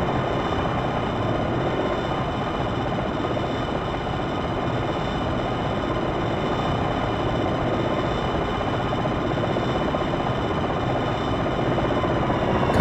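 A Longbow attack helicopter hovers in the Jane's Longbow 2 flight sim, its rotor and turbine drone steady, dense and loud throughout with no voices over it.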